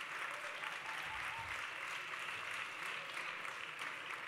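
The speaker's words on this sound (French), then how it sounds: "Ouais, vous pouvez l'applaudir." An audience at the GQ Men of the Year 2017 ceremony applauds Xavier Romaté, a steady, even wash of many hands clapping, soft and distant throughout.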